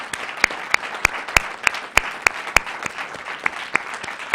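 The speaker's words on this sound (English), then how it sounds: "Let's give our panel a round of applause" An audience at a Pancakes & Politics breakfast event applauds a panel, heard as sparse, evenly spaced sharp claps rather than a dense roar, fairly close and with no talking.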